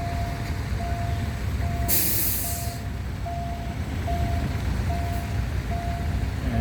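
A train rumbles past a railway beside Mittraphap Road in Nong Dae, Thailand, with a sharp hiss of air brakes early on and a recurring signal tone beeping at regular intervals throughout.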